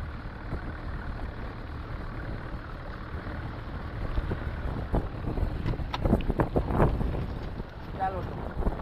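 A fishing boat motor runs steadily at sea while hunting tral fish, a continuous low drone mixed with wind noise on the microphone and water sounds, with some splashing and clatter later.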